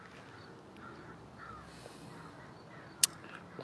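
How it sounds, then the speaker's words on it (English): A flock of around thirty crows caws from a distance outdoors, faint scattered calls over a soft ambient hush, with one sharp nearby click near the end. "There was like, I don't know, 30 crows squawking and flying around"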